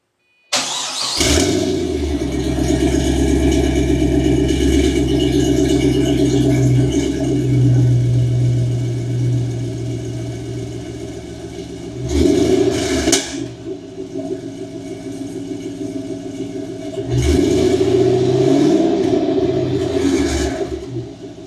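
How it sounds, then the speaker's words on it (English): A Pontiac GTO with a stock LS1 V8, shorty headers and a JBA exhaust cranks and fires, settles into a loud, close, rumbling idle, then revs sharply twice before easing back to idle. "what a stock LS1 with shorty headers and a JBA exhaust sounds like"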